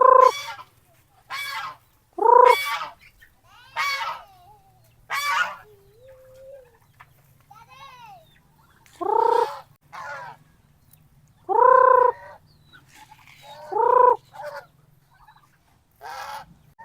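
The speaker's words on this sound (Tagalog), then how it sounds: "Ito pala yung isang pares natin na pato." A pair of ducks give loud honking calls in short bursts, one after another, with quieter squeaky calls between them and a faint hum underneath.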